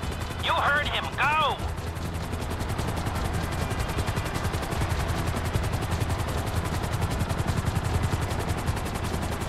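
A helicopter's rapid rotor thumping drones steadily under bursts of gunfire, with brief whistling sounds near the start, in Grand Theft Auto V gameplay.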